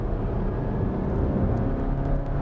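A Volkswagen Tiguan Allspace seven-seat petrol SUV engine revving in sport mode, a loud, dense engine rumble and whir heard from inside the cabin, steady over the brief moment.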